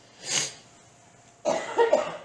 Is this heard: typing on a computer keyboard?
no